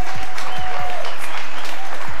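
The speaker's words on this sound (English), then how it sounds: "And a big round of applause," A boxing crowd applauds the fighters after a bout, with loud, dense clapping and cheering filling the hall and a few low thumps sounding through it.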